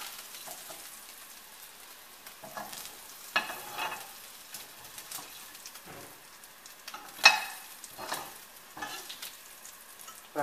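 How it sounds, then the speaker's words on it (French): Poultry gizzards fry and sizzle in a dry pan with no fat, a steady crackle broken by sharper pops and occasional stirring scrapes, close and moderately loud throughout. "maintenant je vais faire les gésiers dans la même poêle"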